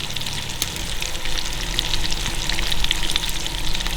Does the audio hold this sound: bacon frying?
yes